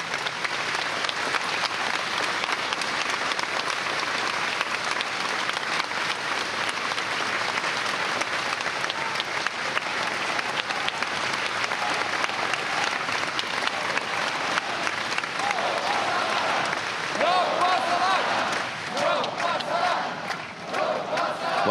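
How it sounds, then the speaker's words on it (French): Loud, sustained applause from a crowd at an antifa rally in Paris, dense continuous clapping mixed with shouts and cheering throughout, and a brief rise of chanting voices near the end. "cette manifestation qui est en train sans doute de se terminer dans les applaudissements très forts que vous entendez autour de moi"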